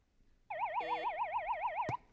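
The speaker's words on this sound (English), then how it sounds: "And with that siren, that does denote the end of our game." A warbling electronic siren sounds once at the end of a high school quiz game, a steady rising-and-falling wail lasting about a second and a half against a quiet room, ending with a brief thump.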